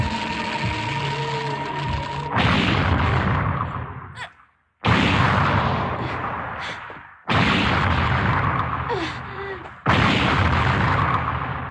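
Several loud booming film explosions in succession, each a sudden burst that rumbles and decays, with brief gaps of near silence between them.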